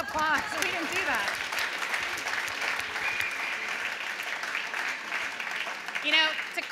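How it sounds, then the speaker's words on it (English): A keynote audience at the IBM DataFirst launch event, BigDataNYC 2016, gives a round of applause, sustained clapping heard under and between a presenter's talk, swelling slightly near the end. "let's give them all a round of applause"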